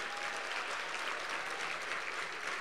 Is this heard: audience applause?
yes